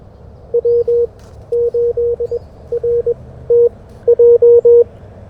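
Morse code sidetone keyed on a KX1 radio during a 40 m CW park activation: a clear, loud steady beep sent in short, rhythmic bursts and groups, with no talk over it.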